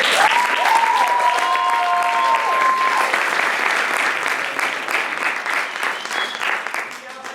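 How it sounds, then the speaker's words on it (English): Audience applause at a university Three Minute Thesis competition, a dense, steady clapping from a large crowd lasting several seconds, with faint voices mixed in and a gradual thinning toward the end. "let's give one big round of applause."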